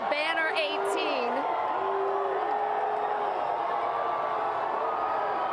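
A large street crowd at the 2024 Boston Celtics championship parade cheers and whoops continuously in a dense roar, with a voice talking over it early on.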